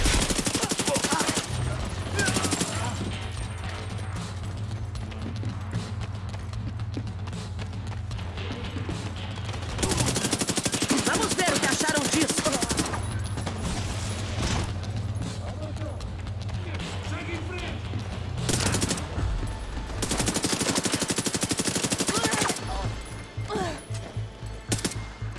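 Gunfire in The Division 2 during a fight against Pata Negra, with repeated bursts of automatic fire starting and stopping across the scene, loud and close, while people talk over the shooting.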